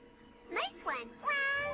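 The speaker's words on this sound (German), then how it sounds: "meine Katze ist zurückgekehrt" A cat meows in the Tales of Xillia 2 video game, two quick rising mews followed by a longer, clear meow, close and distinct against a quiet background.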